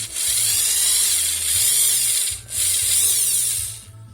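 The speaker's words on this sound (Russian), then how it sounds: "Если вот здесь попробуем просверлить" A power drill bores into hard carbon deposits in an oil passage on a Ford Focus 2 1.6 engine part, giving two sustained high whining bursts with a brief dip between, close and loud, without speech.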